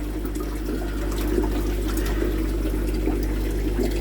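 Steady rushing of water pouring from a hose pipe filling a pond, a continuous close gush with a low constant hum underneath and no talking.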